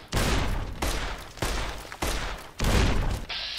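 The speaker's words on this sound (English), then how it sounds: "They all have grenade rifles." Grenade rifle fire in Fallout: New Vegas comes as five heavy booming blasts in quick succession, each with a rolling tail, loud and close.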